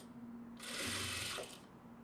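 A sewing machine stitches thread piping in a single short burst, a close, rapid whirring run of under a second that starts and stops abruptly against a faint background hum.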